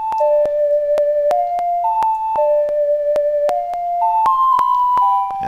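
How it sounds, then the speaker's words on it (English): Ocarina melody of the Song of Time from the video game Majora's Mask, played as a series of clear, steady flute-like notes stepping up and down in a slow, repeating pattern, loud and alone. "Now this is how you'll relearn the Song of Time."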